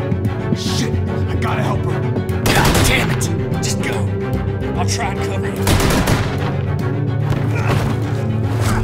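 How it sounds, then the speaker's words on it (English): Bursts of gunfire crack through a busy, music-backed scene in the video game The Walking Dead: A New Frontier, with rapid shots clustering around a few moments and voices mixed in. "I hear gunfire."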